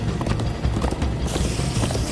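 Horses galloping in Minecraft Story Mode, a loud fast clip-clop of hooves with a whinny mixed in, close and continuous.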